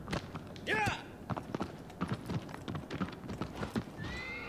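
Horse in the video game Shadow of the Colossus galloping with rhythmic hoof clip-clops and letting out a loud whinny early on, with players talking over the game sounds.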